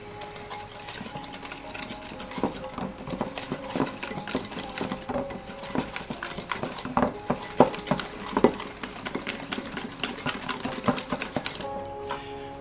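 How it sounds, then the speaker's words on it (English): A whisk scrapes and taps steadily against a bowl while ingredients for a galette are gently mixed, a close rhythmic metallic clatter running throughout with no talk. "I can just gently whisk that in."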